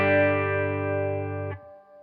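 An electric guitar plays through a tube amp modeled on a 1968 Silverface with only reverb on: one sustained clean chord rings, then is cut off, and a short reverb tail follows.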